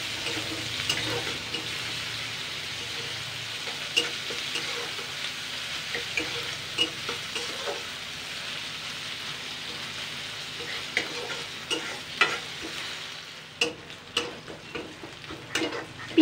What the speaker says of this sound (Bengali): পেঁয়াজ আর জিরে ধনেটা ভাজা হয়ে গেছে